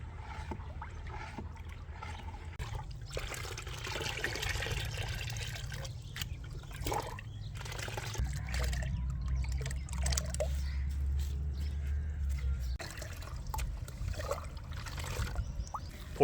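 Liquid fertilizer diluted with water being poured, a soft trickling and splashing stream with a heavier gushing stretch in the middle, fairly quiet and close, with no talking.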